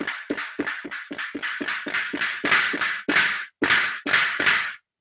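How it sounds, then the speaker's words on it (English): Akai Tom Cat analog drum machine pattern with the maul distortion turned up: a punchy, crunchy run of hits that thicken and grow louder, with longer distorted bursts near the end and short gaps between them. "the maul sound on it, the distortion on it."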